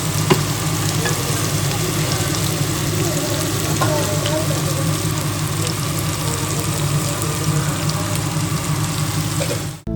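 Pigeon pieces frying in hot oil, a dense and continuous sizzle and crackle that holds steady and loud for the whole stretch, without speech, until it cuts off sharply at the end.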